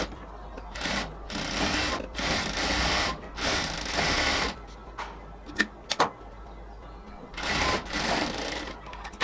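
A sewing machine runs in repeated bursts, stitching lace frills onto the outside of salwar pants, with short pauses and a couple of sharp clicks between runs, close and fairly quiet.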